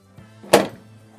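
A single firm plastic thunk as the printhead of a Honeywell PM45 label printer snaps shut, with a low mechanical hum beneath it.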